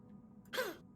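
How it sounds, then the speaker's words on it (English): A man lets out a short, harsh cough burst in a quiet room, a rough rasping sound followed by a sharp final hack at the very end. "he starts coughing violently a bit"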